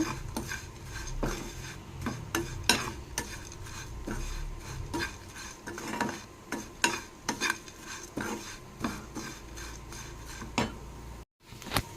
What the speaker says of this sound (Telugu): చూసారు కదా అటుకులు వేగిపోయాయండి